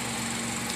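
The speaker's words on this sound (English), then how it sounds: "So now the car is very loud while you're driving because there's a cut in the exhaust system." A Ford Mustang engine runs loud with a cut exhaust after its catalytic converter was stolen, a steady raw droning rumble heard up close and without pause over a brief moment.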